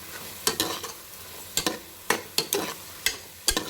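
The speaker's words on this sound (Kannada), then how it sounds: "ಸಕ್ಕರೆನ ಹಾಕಿ ಚೆನ್ನಾಗಿ ಮಿಕ್ಸ್ ಮಾಡ್ಕೊಳ್ಳಿ." A spoon stirs sugar into Kashi halwa in a pan, giving about eight short scraping strokes in uneven bursts with quiet gaps between, close by and with no talking.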